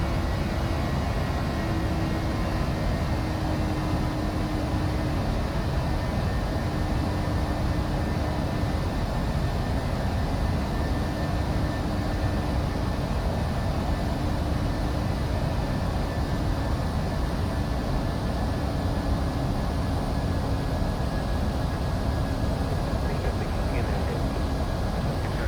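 Steady, broad engine roar inside an airliner cabin as it levels off after the climb, loud and unbroken with a faint tonal hum, no talk.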